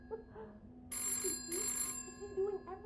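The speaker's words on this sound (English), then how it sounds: "Just answer the phone." A telephone rings in a game scene, two bright electronic trilling bursts under a soft background tone, moderately loud and near.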